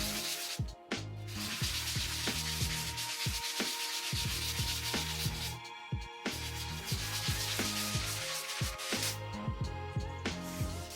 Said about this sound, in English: grab your sanding block